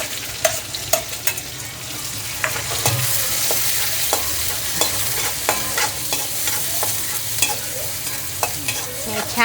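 Garlic and onions frying in a pan for a bitter gourd (karela) dish, with a steady close sizzle broken by frequent sharp spatula scrapes and clinks throughout.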